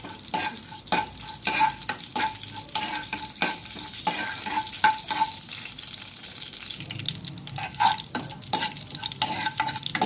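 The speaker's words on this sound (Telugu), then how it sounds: "సో మినప్పప్పు, ఆవాలు, జీలకర్ర ఇవి కొంచెం వేగాలి" Urad dal, mustard seeds and cumin seeds frying in hot oil as a spoon stirs them, steady sizzling under a series of sharp scraping strokes against the pan.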